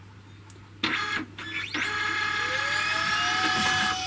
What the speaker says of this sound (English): Not particularly noisy, or as you'd expect really on a cheaper printer.